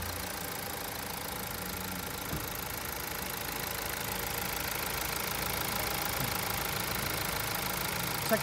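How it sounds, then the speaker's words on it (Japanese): A car engine idles steadily at low volume, giving a continuous, even hum with a faint knock throughout and a small bump near the end, with no voices. "エンジンかけてください。"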